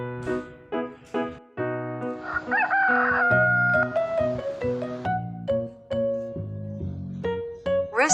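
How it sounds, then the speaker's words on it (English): Rooster crowing on a farm, several long harmonic cock-a-doodle-doo calls one after another, loud and close with no talk over them. "Rooster."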